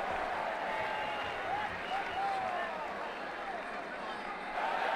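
Simulated stadium crowd applause in a cricket video game, a steady distant wash of clapping and crowd noise under commentary voices.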